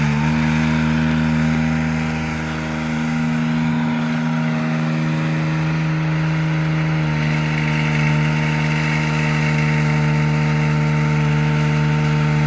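The 8.1 liter gas engine of a forestry bucket truck idles with a steady, even hum and strong low tones, close and constant, with a slight dip partway through.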